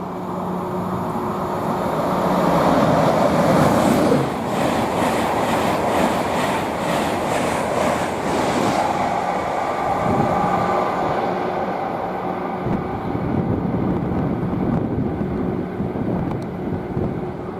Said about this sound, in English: We've got a Intercity 225 set heading to Bradford Forster Square.